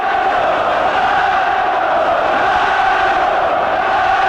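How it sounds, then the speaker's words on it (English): A boxing crowd at a Nigel Benn versus Steve Collins fight keeps up a loud, steady wall of chanting and roaring, continuous and unbroken throughout, with no clear voice standing out. "Crowd trying to urge Ben on with chants of Nigel, Nigel."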